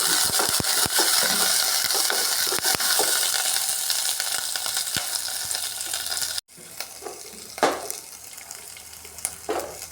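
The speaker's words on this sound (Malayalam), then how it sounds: "ഉള്ളി ചെറുതായിട്ട് അരിഞ്ഞത് കറിവേപ്പില ഇച്ചിരി കൂടെ ഒന്ന് നല്ലതുപോലെ ഒന്നിട്ട് ഇളക്കി കൊടുക്കാം" Chopped onion and curry leaves sautéing in a pan for a Kerala buttermilk curry, a bright crackling sizzle with quick clinks of stirring, then a sudden cut to a quieter sizzle with a few louder scrapes.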